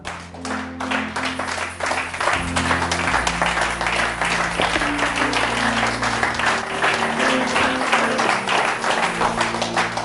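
A church congregation applauding during a French-language sermon, dense sustained clapping from many people filling the room, with an underlying hum and faint voices.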